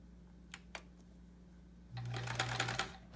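A domestic sewing machine used for quilt piecing, near the end of its bobbin and making a kerchunking noise: two light clicks, then a short burst of fast mechanical stitching with a low hum, close and quiet.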